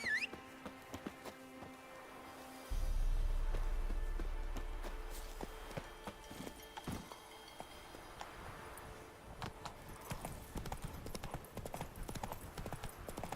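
The horse Roach walks in The Witcher 3, its hooves sounding a steady clip-clop rhythm mixed with game ambience and a low rumble, at moderate distance.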